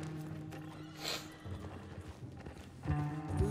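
Horse hooves clip-clop in Red Dead Redemption 2, a steady close walking rhythm with a brief whinny partway through, heard alone with no talk.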